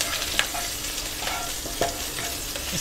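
Potatoes with cumin being stirred in a pan for a fasting-day dish: a close, steady sizzle with a few scraping strokes of the spoon and a light clink.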